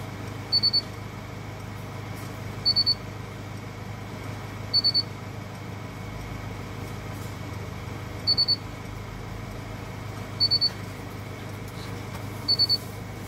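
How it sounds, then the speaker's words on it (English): A 2020 Mercedes GLC blind spot sensor gives a warning of clear, high double beeps. They repeat about every two seconds, six times in all, over a quiet, steady background hum. "it will flash and it will also give you an audible beep just to let you know someone's there"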